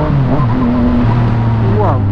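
A Yamaha MT09 motorcycle engine drones loud and close during a test ride, holding a steady note with small shifts in pitch and a brief rising rev near the end.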